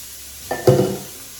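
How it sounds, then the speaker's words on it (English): Vegetables go into a skillet still holding meatball drippings, giving a short hiss and sizzle burst with a faint stir that fades quickly into quiet. "I want to saute these vegetables"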